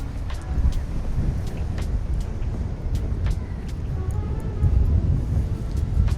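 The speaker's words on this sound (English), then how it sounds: "It might be a bit windy." Steady low rumbling wind buffeting the microphone outdoors, constant and fairly loud throughout, with faint traffic-like noise in the background.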